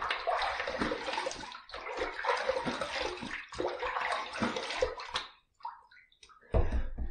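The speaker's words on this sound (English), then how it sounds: "we're gonna go ahead and dump this hot water into the sink" Hot water is dumped from a container into a sink, a close, steady splashing pour lasting several seconds that breaks off into scattered drips and ends with a short final splash.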